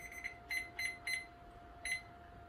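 A kitchen timer goes off while cookies bake in the oven, sounding five short, bright electronic beeps in an uneven pattern, some doubled, against a quiet room with a faint steady hum.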